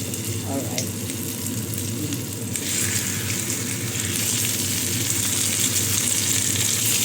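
Aromatics toast in a hot pan with a dense, close sizzle and frying crackle that swells louder partway through, while a spoon scrapes and stirs now and then and a voice speaks briefly over it.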